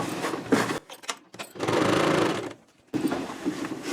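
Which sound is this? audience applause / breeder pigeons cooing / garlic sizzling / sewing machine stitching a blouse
sewing machine stitching a blouse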